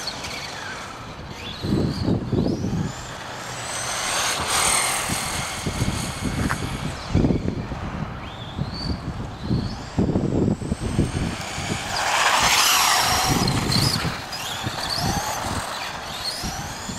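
An Associated B4 RC race car, race-prepped, driving on a street with a steady buzzing motor whine that rises and falls in pitch as it passes to and fro, loud and continuous throughout.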